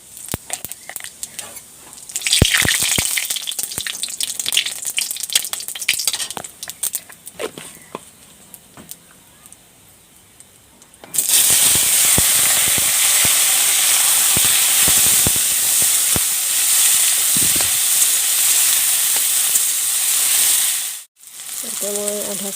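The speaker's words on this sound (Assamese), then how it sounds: "এতিয়া মই কাঁচকলখিনি ফ্ৰাই কৰি ল'ম। তেজপাত দিলোঁ, অকণমান গোটা জিৰা," Raw green banana fries in hot oil with bay leaf and whole cumin. Quieter clattering and stirring comes first, then a loud, steady, close hiss-sizzle takes over midway and drops out briefly near the end.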